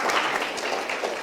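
A church congregation applauds during a sermon in a short burst of many hands clapping together, dense and fairly near.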